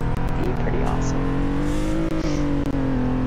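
A car in the Roblox game Greenville revs and accelerates, its engine drone rising in pitch with a steady loud hum, while a voice talks over it throughout.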